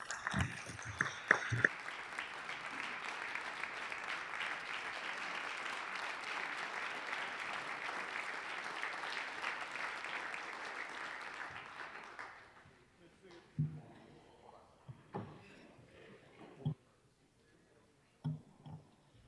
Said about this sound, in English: But I'd sure like us to give a round of applause for leadership.